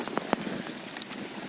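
Steady rain patters on a surface outdoors during night eel fishing, a dense continuous hiss broken by a few sharper drop ticks, fairly close, with no voices.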